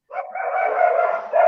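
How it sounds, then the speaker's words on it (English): A dog gives one drawn-out, howling bark that rises in a second burst at the end, close and loud with no talk over it. "there's Stephen's dogs"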